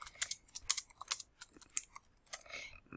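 Quick, light keystrokes on a computer keyboard as a short message is typed. The clicks come in an uneven patter, close and fairly quiet.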